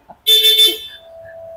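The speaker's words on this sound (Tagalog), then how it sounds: "lakas ng busina" Motorcycle horn on a new Yamaha Aerox SP V3 scooter, a single loud, bright honk lasting about half a second, close to the microphone, followed by a faint lingering tone and quiet background.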